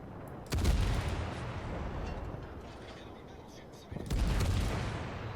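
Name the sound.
naval gunfire in the video game World of Warships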